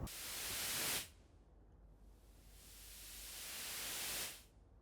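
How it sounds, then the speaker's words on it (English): White noise generated by a Test Oscillator plugin swells up and down under volume automation: a loud, full-band hiss for about a second, a dip to near quiet, then a slow rise to a second loud burst before cutting off. "When you press the A, there is this section where you can hear the white noise."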